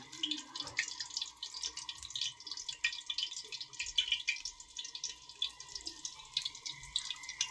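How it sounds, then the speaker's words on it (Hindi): Chicken shami kebabs frying in a pan, crackling and spitting softly as an uneven stream of small pops over a faint steady hiss. "तमाम शामी को इस तरह फ्राई कर लेंगे"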